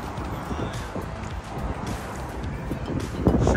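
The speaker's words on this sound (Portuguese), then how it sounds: "Tá mesmo a fazer uma ventania fixe." Strong wind buffets the microphone outdoors near a metro exit, a loud continuous roar with gusty swells and a heavier blast toward the end.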